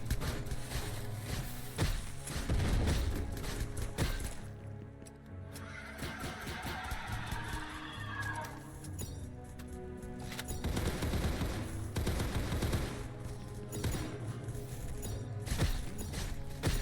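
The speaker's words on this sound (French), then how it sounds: "il y a mon soldat qui tire" Gunfire from a soldier in the Roblox video game, sounding as repeated sharp cracks and bursts over steady game music and ambience, continuing through much of the clip.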